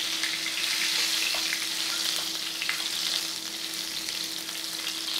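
Lamb chops, pricked with a knife, sear in very hot fat in a pan, giving a loud, dense, continuous sizzle and spatter close by with no talking.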